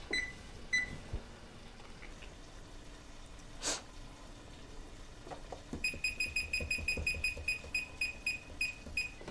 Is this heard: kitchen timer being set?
yes